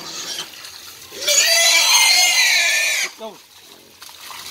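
Shrill, sustained squeal of a wild boar being slaughtered, loud and close for about two seconds, followed by a brief grunt, with people talking before and after.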